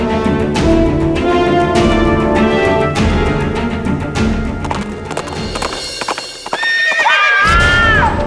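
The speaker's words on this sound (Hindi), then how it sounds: "हमने घोड़े के चलने की आवाज सुनी।" A horse clip-clops with steady hoof beats under loud dramatic music, then gives a clear whinny near the end in a tense haveli scene.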